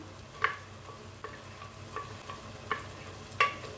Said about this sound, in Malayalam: ഈ തേങ്ങ അരപ്പും കൂടെ ഇതിനകത്ത് കിടന്ന് നന്നായിട്ടൊന്ന് വഴന്ന് എണ്ണയൊക്കെ തെളിഞ്ഞ് വരണം